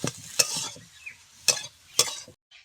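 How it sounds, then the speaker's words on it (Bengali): Chopped coriander leaves are stirred into a snack mixture in a pan, producing a few distinct scraping strokes of a spoon over a faint sizzle. The strokes are close and spaced apart, with quiet gaps between them. "ধনে পাতা কুচিটা দিয়ে দেব ভালো করে মিশিয়ে নেব ধনে পাতাটা"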